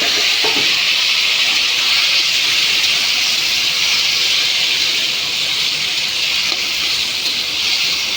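Rohu fish frying in a pan for a besara khata curry gives a loud, continuous, close sizzle and hiss that stays steady throughout, with no talking.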